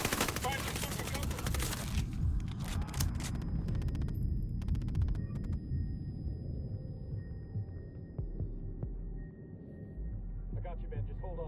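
Gunfire from a barn in the Ghost Recon video game, dense rapid bursts of shots close and loud early on, thinning to scattered echoes, with voices talking over the shooting.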